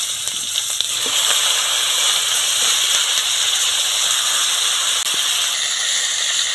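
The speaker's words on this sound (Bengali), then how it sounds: "ফুলকপিগুলো তেলের মধ্যে দিয়ে দিচ্ছি" Steady, fairly loud sizzling of cauliflower frying in hot oil, a continuous crackling hiss with no voices.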